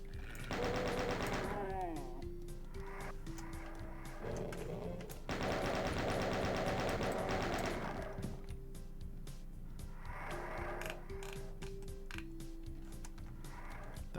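Alpha plasma gun in a video game firing plasma bolts in rapid, sustained volleys, interspersed with pitched electronic tones and game music, fairly quiet overall with no talking.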